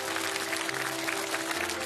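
Brief, dense audience applause on a televised singing show, steady clapping from a studio crowd with a faint tonal hum underneath.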